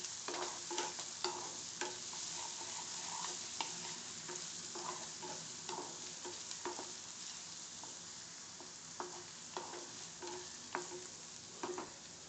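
Sliced onions sauteing on a high flame for black pav bhaji, with a continuous frying sizzle broken by repeated scraping and clinking as a spoon stirs the pan, fairly quiet and without voices.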